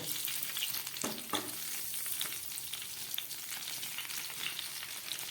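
Large eggplant slices fry in hot oil with a steady close sizzle, broken by a few sharp scraping clicks as the pieces are stirred and turned in the pan.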